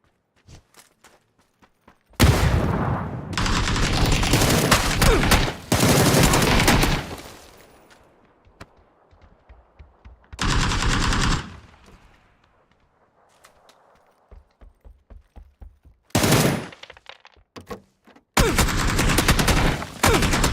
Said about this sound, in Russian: Откуда он стреляет?